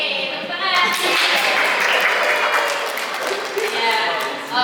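An audience at a church fellowship's Saturday drama show gives a group called House of Prophet steady, crowd-wide applause and cheering. It holds loud and continuous for the whole stretch, with some voices mixed in.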